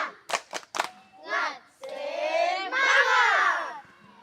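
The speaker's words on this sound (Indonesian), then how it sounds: "Oke, tepuk semangat." Children in an outdoor physical education lesson do a spirit clap: three quick sharp hand claps, followed by a loud burst of children shouting and cheering together in unison.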